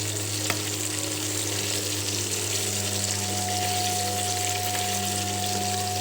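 Steady sizzling of fish pieces shallow-frying in hot oil with onions, a continuous dense crackle close up with a faint low hum underneath and no talking.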